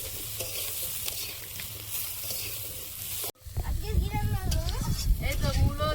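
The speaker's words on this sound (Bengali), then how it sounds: "ভাজা মাছটা আর একটুখানি ভেজে নিই ডবল করে" Fish fries a second time in hot oil in a home kitchen, a loud continuous sizzle that briefly cuts out midway and returns with a voice talking over it.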